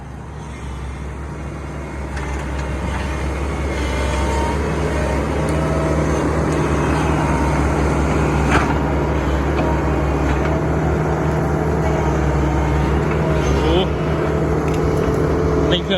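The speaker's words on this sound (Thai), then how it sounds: "เสียงเครื่องนิ่มอยู่นะ เสียงปั๊มไม่มีหอนเลยครับ" An engine is revved, its deep rumble climbing over the first few seconds and then holding a smooth, steady, loud drone without any whine from the pump.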